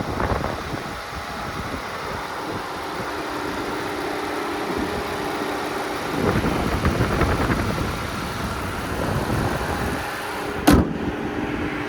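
A 2014 Ford Flex's 3.5 liter twin-turbo EcoBoost V6 idles steadily, a smooth low engine hum held close, with a brief sharp knock near the end.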